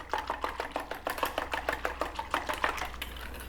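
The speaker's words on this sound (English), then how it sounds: "So you're going to whisk that baby up." Eggs and egg whites whisked briskly in a bowl with cinnamon and vanilla for crepe batter, a fast steady run of clicking strokes close up with no talking.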